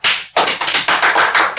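A burst of applause at a company's new product presentation, with hands clapping loud and close in a dense, uneven patter after a brief gap, and no voices.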